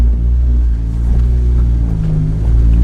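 A car exhaust rumbles while driving, a loud, close, deep throb that swells and settles with no talk over it.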